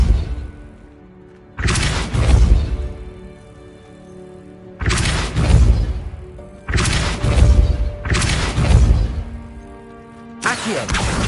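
Five forceful Depulso spell blasts in Hogwarts Legacy burst out one after another, each a loud whooshing thump that fades before the next, separated by short quiet gaps.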